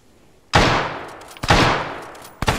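Luger pistol fire in a World War II video game: three loud, sharp shots, each with a long decaying echo, spaced about a second apart.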